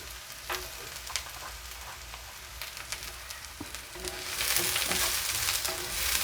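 Garlic sizzles in a hot frying pan, a steady crackling hiss that swells louder toward the end, with no talking over it.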